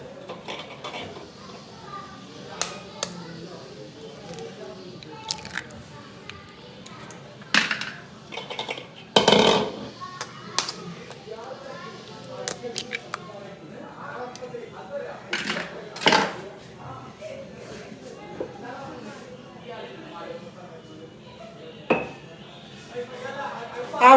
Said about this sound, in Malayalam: ഇതിലേക്ക് 2 മുട്ട ഞാൻ ഉടച്ചു കൂട്ടുന്നുണ്ട്.